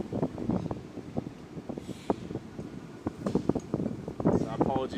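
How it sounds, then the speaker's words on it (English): Strong gusts of wind buffet the microphone at an outdoor cricket match in Sydney, low rumbling bursts swelling and fading under a commentator's voice. "we're getting a couple of pretty strong gusts of wind"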